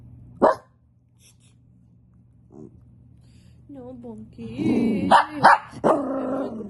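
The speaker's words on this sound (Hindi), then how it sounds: "कुत्ता चुपता दूसरा शुरू हो जाता है" Dogs barking at home: a sharp bark early, then a series of barks and yelps building toward the end, mixed with a voice speaking over them.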